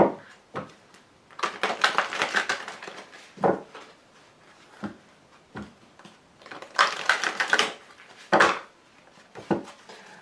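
Oracle cards are shuffled by hand in quick riffling bursts of papery flicks and taps, each several seconds long, separated by brief pauses and sharp single snaps, close and clear with no talking.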